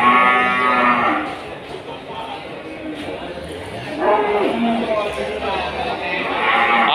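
Limousin cattle moo loudly and repeatedly, close by, with a crowd murmuring in the background of a busy livestock market in Kudus, Indonesia.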